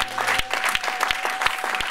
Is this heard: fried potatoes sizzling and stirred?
no